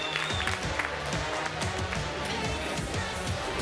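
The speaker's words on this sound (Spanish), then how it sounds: "Un fuerte aplauso tío" Players and spectators applaud the winners of a gaming tournament championship. Steady crowd clapping mixes with a few scattered voices and cheers throughout.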